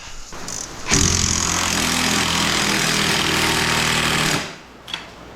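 A power tool tightens bolts on a Honda Talon 2.5-inch lift kit. It makes one steady, loud, buzzing hammering run of about three and a half seconds, then cuts out, with no speech.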